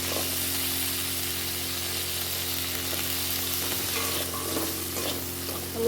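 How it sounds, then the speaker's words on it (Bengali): Cut pieces of a large potato fry in a little oil in a wok, a steady close sizzle and hiss running throughout with faint stirring clinks, no voices. "এবার কড়াইতে যেটুকু তেল আছে ওর ভিতরেই আমি আগে থেকে কেটে রাখা আলুটা ভেজে নেব।"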